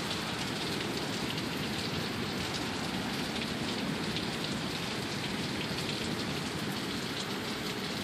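Heavy rain pours down in a steady, dense hiss during a downpour in Sioux Falls, a constant broadband wash of drops hitting surfaces with no break across the whole stretch.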